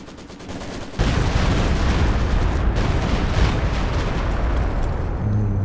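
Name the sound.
Stuka dive bomber barrage in the video game Company of Heroes 2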